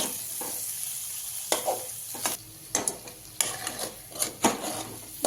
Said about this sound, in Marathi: थोडस मीठ हे पण चांगलं परतून घेऊया